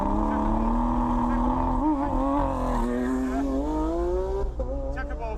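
McLaren 600LT supercar driving down an airfield runway at a supercar event, its engine a loud sustained drone with rising and falling pitch as it revs and shifts, close by throughout, with voices faintly beneath.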